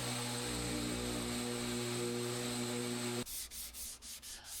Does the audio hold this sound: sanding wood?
yes